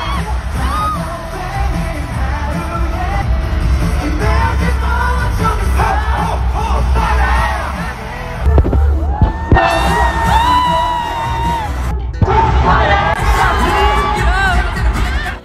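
A huge crowd screams and cheers during a live performance at the Asia Artist Awards 2023, a loud, continuous wall of high shrieks and yells with brief dips and surges, recorded close in the stands.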